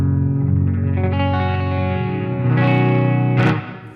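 An electric guitar played through a Line 6 Helix LT gives sustained chords with rich harmonics and an effect-coloured shimmer, loud and close, ringing for a few seconds before cutting off.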